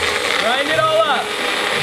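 Magic Bullet blender grinding Jolly Ranchers, ice and Sprite, a loud close whirring grind with rattling chunks throughout a short burst.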